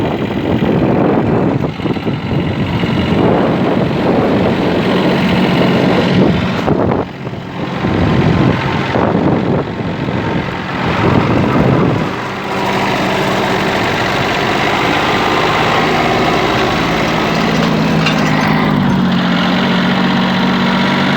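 A used Yanmar AF-22 Japanese mini tractor fitted with a rotary tiller runs close by, its diesel engine chugging loudly and steadily, dipping briefly then settling into a constant idle-like drone.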